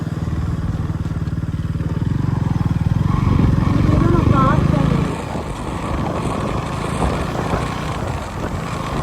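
A motorcycle engine roars loudly and close by on a road near Munnar, a deep rumbling drone that builds for about five seconds and then drops away, leaving lower road noise.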